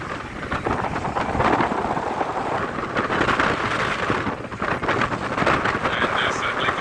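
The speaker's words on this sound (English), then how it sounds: "And it's very windy here." Strong wind roars across a cruise ship deck in Barcelona harbor, buffeting the microphone in a steady, loud, rushing noise with gusty surges throughout.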